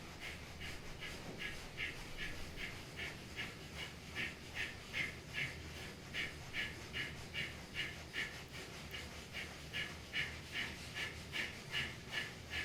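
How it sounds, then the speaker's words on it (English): Rhythmic breath during a kundalini yoga exercise, steady repeated inhales and exhales in an even pulse, close and continuous over a low background hiss. "Inhaling Sat, exhaling Nam."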